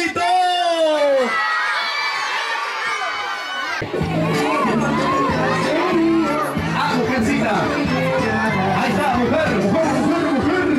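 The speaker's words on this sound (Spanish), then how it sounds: "Los niños, un grito." Children at a Christmas hot chocolate gathering in a rural village let out a loud collective shout, with high cheering and whooping voices blending into sustained crowd noise.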